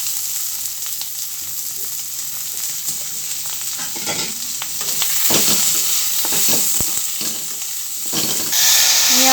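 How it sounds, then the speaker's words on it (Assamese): Potatoes fry with masala in a pan for a homestyle mutton curry, stirred constantly with scraping strokes over a steady close sizzle that grows louder toward the end; no voices. "মছলাৰ সৈতে আলুখিনিও ভাজি লৈছোঁ।"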